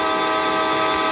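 Vehicle horn blaring in the Indian Bike Driving 3D mobile game, a loud sustained tonal honk that holds steady without a break, close and alone with no talking.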